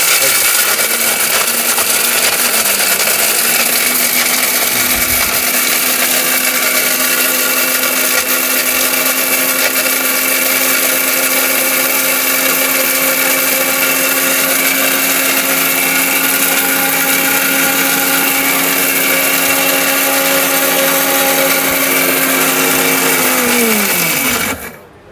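Electric kitchen blender running continuously at a steady, loud whine for a long stretch, its pitch dipping briefly at the start and then winding down as it switches off at the end.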